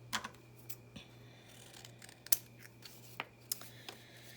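Scissors trim paper pieces for an art page, giving several crisp, close snips scattered irregularly over a quiet background with no talking.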